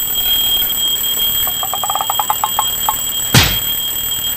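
An alarm clock rings before dawn for the Ramadan pre-dawn meal, a quick run of bright repeated beeps that speeds up then trails off, followed by a sharp thump, close and loud in a quiet room.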